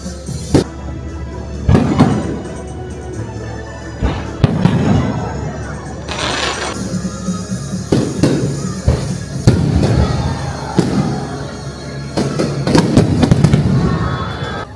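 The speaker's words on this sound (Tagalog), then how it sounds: "kakatapos na mag-fireworks" Fireworks burst at an amusement park with repeated booming thuds and crackles at irregular intervals, some nearer and louder, over a murmuring crowd and occasional voices.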